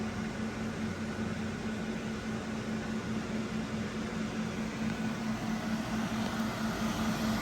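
A 400-watt portable camping air conditioner hums and whirs steadily at a low level throughout, a constant broadband drone with a faint tonal hum and no voices.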